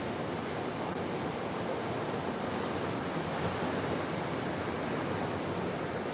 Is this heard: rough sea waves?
yes